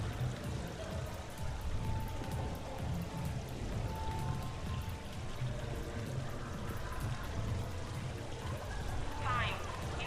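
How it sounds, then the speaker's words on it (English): A Hanar urinal, a waterfall-style fountain in the Mass Effect 3 video game, pours and splashes steadily throughout, with faint voices murmuring in the background. "Please do not touch the waterfall."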